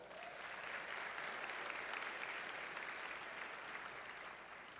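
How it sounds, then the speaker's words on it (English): A hall full of educators at a conference applauds themselves, a dense, even wash of clapping that holds steady, faint and distant throughout with no talk. "Please give yourselves a round of applause."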